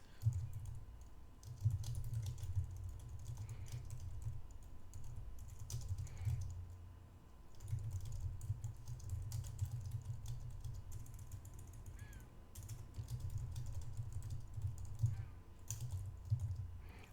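Steady typing on a computer keyboard, a quiet continuous patter of keystrokes with brief pauses, low and close with no talking.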